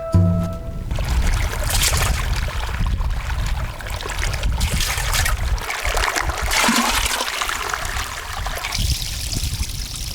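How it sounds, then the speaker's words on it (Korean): Small stream trickling through rugged rocky terrain in the Gobi Desert, a steady close-up splash and gurgle of running water filling the whole stretch with no voices. "험준한 바위지대에 숨은 작은 개울에 도착했다"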